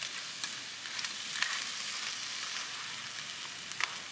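Chilli black crab sauce made with marron sizzles steadily in a pan, a continuous close frying hiss with a few faint stirring scrapes, no voices.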